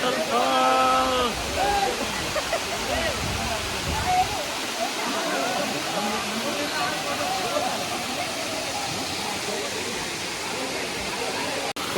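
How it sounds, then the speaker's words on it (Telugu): Kongala Waterfalls roars as a steady, dense rush of falling water, loud and close throughout, with a voice speaking briefly over it at the start. "చూడ్డానికి ఎంతో బాగుంది కొంగల వాటర్ ఫాల్"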